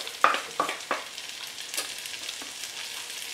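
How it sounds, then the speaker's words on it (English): Beef stock poured into a hot pan over seared beef pieces for a steak and mushroom pie, giving a steady close sizzle broken by a few sharp splashing bursts and stirring scrapes. "The pan will automatically deglaze as we start to add the beef stock."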